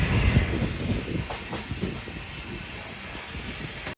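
Steady rumble and rattling clatter from inside a moving passenger train travelling toward Renigunta and Tirupati, a continuous close wash of wheel and carriage noise with faint hiss and no talking.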